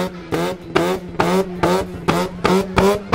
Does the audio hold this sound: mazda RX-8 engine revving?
yes